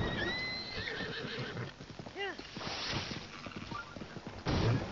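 A burning horse neighs in Zelda: Breath of the Wild amid fire-arrow combat, one wavering whinny in the middle over clopping hooves and game noise.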